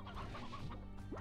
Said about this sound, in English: Wow, here's some chickens.